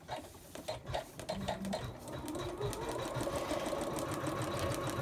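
A sewing machine stitching fur or fleece fabric for a stuffed toy: a steady, fast mechanical whir and clatter that starts lightly and settles into a continuous close hum.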